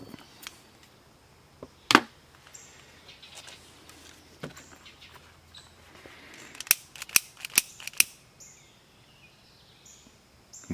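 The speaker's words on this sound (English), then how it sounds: "I use good scissors." Sharp scissors snip cord while a Poulan Pro leaf blower recoil starter is being restrung, giving a scattering of crisp, close clicks and cuts, some in quick clusters, over a quiet background.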